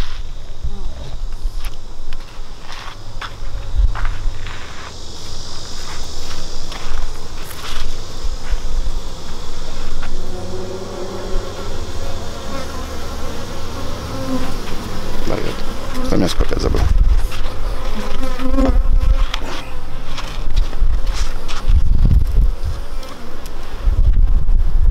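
A dense hum of many honey bees buzzing close by at an open hive continues throughout, with low rustling and handling noises and occasional wind bumps.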